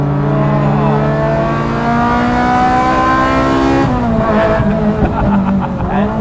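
A tuned car engine with an H-pattern gearbox revs hard, its pitch climbing steadily for several seconds before dropping sharply at a gear change and pulling again, loud and close with no voices.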